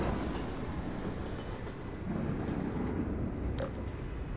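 Train arriving in the video game Half-Life 2: Episode 1, a steady low rumble of rolling rail cars with a faint clatter rising slightly midway and a brief metallic squeal near the end, no voices.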